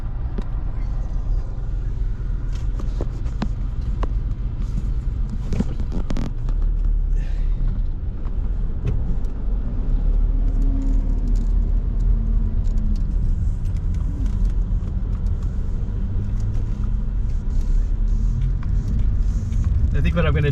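A car driving through the streets of Detroit from Midtown toward Downtown, with a steady low engine and road rumble throughout and people talking over it.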